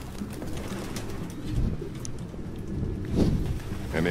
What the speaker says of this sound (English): Excuse me, pigeons.